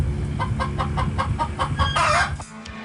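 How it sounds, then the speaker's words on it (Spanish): A hen clucks in a steady series of short, rhythmic clucks, ending with a louder, drawn-out cackle before falling quiet. "La gallina cacarea."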